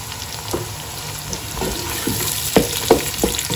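Onions, garlic, ginger and green chillies frying in a pan for butter chicken, a steady soft sizzle broken by small sharp pops and stirring clinks, close and fairly quiet.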